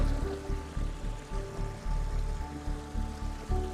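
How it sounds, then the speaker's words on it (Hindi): Water poured into the channel of a village water mill in the Uttarkashi hills, a steady splashing rush with a rhythmic pulsing churn repeating about twice a second, close and continuous with no voices. "पानी को एक ढंग से डालेंगे इधर"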